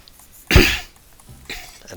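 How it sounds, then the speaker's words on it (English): A person clears their throat close to the microphone, with one strong rasping burst followed by a softer, shorter one in a quiet room. "And also clear my throat."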